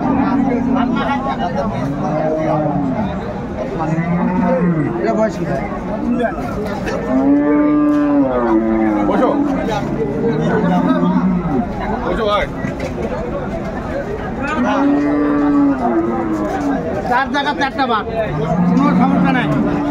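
Cows and calves moo repeatedly at a livestock market, long drawn-out lowing calls rising and falling, some deeper and some higher-pitched, with faint voices and background murmur throughout.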